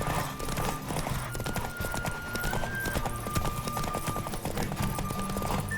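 Horse hooves clip-clop at a fast, steady gallop in a race in The Witcher 3, loud and close, with a thin tonal game sound running over the hoofbeats.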